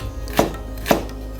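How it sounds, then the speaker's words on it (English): A knife chops a finger-sized piece of ginger into small pieces on a board, giving two distinct sharp thuds about half a second apart over quiet background, with no voices. "a bit of ginger, just about one finger, and you have to cut it down into really small pieces"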